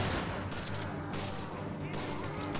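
Gunfire and explosive blasts from a firefight in the video game Resident Evil 5, including a rocket launcher being fired, dense and continuous across the whole stretch with a faint voice underneath.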